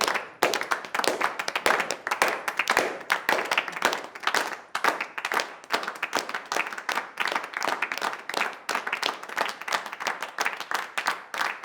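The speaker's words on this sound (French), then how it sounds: "si vous êtes d'accord, on applaudit" A team audience claps in sharp, distinct individual hand claps, an irregular, lively rhythm of close claps that continues for several seconds with no talk.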